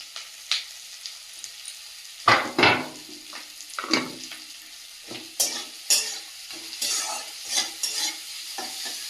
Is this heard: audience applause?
no